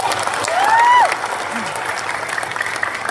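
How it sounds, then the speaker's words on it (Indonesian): Crowd at an Indonesian political rally applauds for Mas Isna, a thick, sustained clapping roar with a brief whistle rising over it early on. The applause stays fairly even throughout. "Tepuk tangan untuk Mas Isna."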